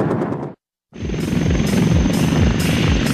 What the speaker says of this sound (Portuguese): É um helicóptero de dois motores com um poderio imenso e incrível agilidade.